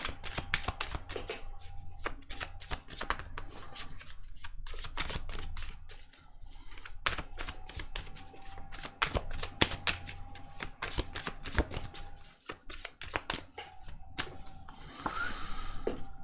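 Tarot cards being shuffled for a reading, giving quick crisp riffling flicks in repeated bursts with short pauses between them, close and clear throughout, with no voice.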